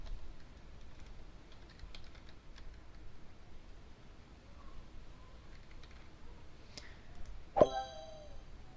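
Light, scattered keystrokes tap on a computer keyboard during a rock star life simulator game, quiet and close, ending in a single bright ringing chime.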